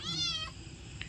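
A cat gives one clear, faint meow with a rising then falling tone, followed by a softer short second call, alone against quiet background noise.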